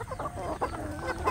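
Free-range village chickens clucking close by in several short, overlapping calls, moderately loud over a soft farmyard background.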